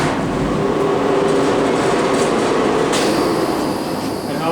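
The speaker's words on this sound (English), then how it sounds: "The grinding room has a ventilation fan right here," Ventilation fan running in the grinding room of a welding shop, producing a loud, constant broadband roar and rumble that holds steady across the whole stretch with no talk.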